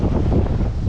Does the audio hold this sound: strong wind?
yes